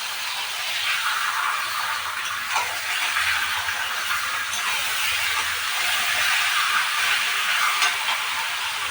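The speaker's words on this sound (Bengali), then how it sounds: "মাংসটা দিয়ে ভালো করে ভেজে নিতে হবে" Meat frying in a pan after onions have browned, a continuous dense sizzling hiss that holds steady throughout, close and fairly loud, with no voices.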